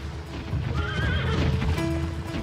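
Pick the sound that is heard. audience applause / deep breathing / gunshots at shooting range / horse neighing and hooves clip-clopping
horse neighing and hooves clip-clopping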